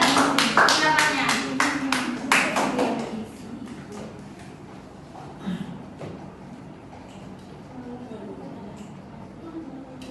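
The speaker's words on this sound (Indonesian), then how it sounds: "Beri aplaus kepada Bayu karena sudah memberikan pendapatnya." Classroom applause for a student named Bayu, a burst of many hands clapping in the first few seconds that fades into scattered claps, room murmur and a voice speaking.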